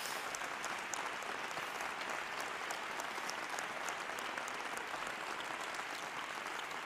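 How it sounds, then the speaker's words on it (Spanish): Audience applause for a cofradía music band at the end of a concert, a steady dense wash of clapping from a hall crowd, even and sustained throughout at moderate distance. "Pido un fuertísimo aplauso para todos mis compañeros"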